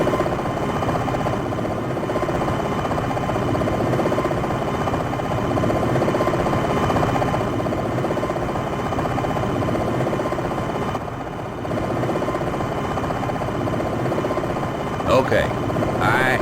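Steady, droning rotor and turbine hum of a Longbow Apache helicopter in the Longbow Gold flight simulator game, continuous and moderately loud for the whole stretch, with a brief electronic blip near the end.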